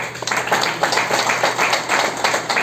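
A crowd at a business motivational event claps loudly and close, with sharp, irregular individual hand strikes rising and falling over the short stretch.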